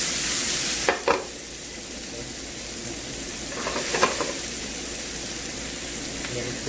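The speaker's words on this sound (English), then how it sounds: "Then we're gonna add some chopped onion here, around 3 spoons" Chopped onion, about three spoonfuls, frying in a pan for an eggplant bharta, giving a steady close sizzle throughout with a few brief stirring clatters.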